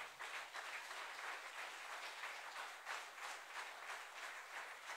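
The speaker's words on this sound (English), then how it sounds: "Let's give God a hand clap of praise." A church congregation claps in praise during a sermon, a steady, even patter of many hands that holds for several seconds and sounds quiet and somewhat distant.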